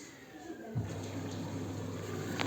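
An Arçelik washing machine draws in water with a steady, close hiss and rushing flow that starts abruptly after a short pause and holds on evenly to the end.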